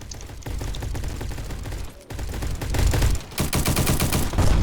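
Rapid, loud unsuppressed gunfire from a powerful gun in a video game, dense bursts of shots running almost continuously with a brief pause midway, no talking.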